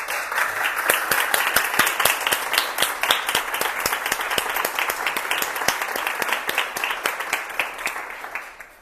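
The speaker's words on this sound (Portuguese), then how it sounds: "eu queria pedir uma salva de palmas para vocês" A room full of people claps for a Brazilian home staging research presentation, crisp individual claps rising out of a steady, lively wash of applause that fades away at the end.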